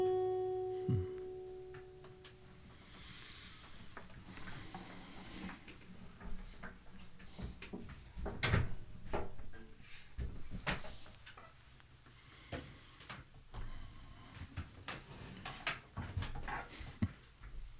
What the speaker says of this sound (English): I have a creaky chair. It's actually a rocker.